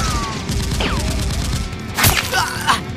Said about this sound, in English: In another room, a soldier rushes out firing at Seal X, forcing him to dodge.